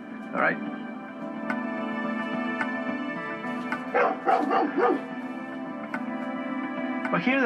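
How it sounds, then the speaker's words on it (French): A dog barks and yips in short bursts over a steady hum, fairly near, with speech in the background. "Écoutez comme il aboie."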